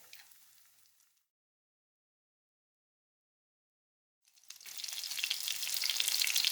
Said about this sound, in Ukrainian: Смажимо, як звичайні оладки.